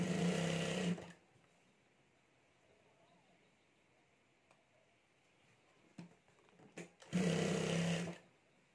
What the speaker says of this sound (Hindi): यहाँ हमें सिलाई करके हैंडल तैयार कर लेना है